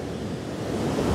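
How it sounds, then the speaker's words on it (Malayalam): The Kozhippara waterfall at Kakkadampoyil rushes in a dense, continuous roar of falling water, steady and close, building slightly toward the end with no voices. "സൂപ്പർ വെള്ളച്ചാട്ടം, നല്ല ഫീലുണ്ട് ഇവിടെ ഇങ്ങനെ ഇരുന്നത്"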